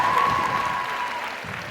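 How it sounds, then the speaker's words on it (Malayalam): An audience at a college program for a film event breaks into steady, dense applause that carries on throughout and eases off slightly toward the end, with a faint crowd murmur underneath. "സ്പെഷ്യൽ കൈയടി പ്ലീസ്."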